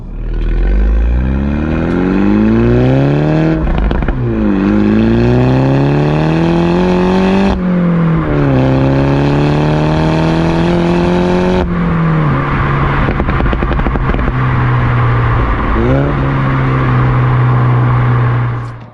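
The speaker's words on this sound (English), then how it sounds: "There you go, the exhaust is actually switched on now, and now it's turned off, and it's all done at the touch of a button." A German sports car with a 3.6 litre engine of just under 300 horsepower and a button-switched exhaust revs repeatedly, loud and close. Each throttle blip sweeps up and falls back, then it settles to a steady idle with no talk.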